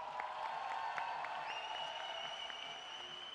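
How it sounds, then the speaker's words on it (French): Audience applause at a live comedy stage event, a soft, steady patter of clapping heard from a distance for a few seconds. "Mathilde Larère, qu'on peut applaudir encore."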